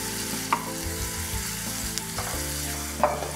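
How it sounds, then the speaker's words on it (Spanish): Onion and leek fry together in a pan for a chestnut and mushroom soup, a steady close sizzle with a few soft stirring knocks and scrapes, no voices. "incorporo el puerro y termino de sofreír cebolla y puerro juntos"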